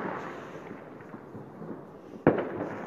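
Fireworks and firecrackers explode during a New Year's Eve 2017 celebration, with a steady crackling rumble of distant bursts and one sharp, loud bang near the end.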